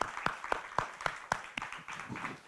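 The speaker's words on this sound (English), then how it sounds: "So now we're going to have a clap." An audience claps for a panel discussion on community spaces, with a handful of sharp, separate claps at first that loosen into scattered, softer clapping from a small crowd nearby.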